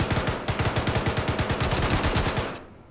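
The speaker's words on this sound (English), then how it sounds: "Do not run in front of me while I'm shooting." Rapid automatic gunfire from the video game Star Citizen, a fast even burst of closely spaced shots, loud and continuous for a few seconds before cutting off.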